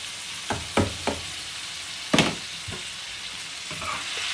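Ackee frying in a pan for ackee and saltfish, a steady close sizzle with a few distinct scraping stirs of a utensil, no talking.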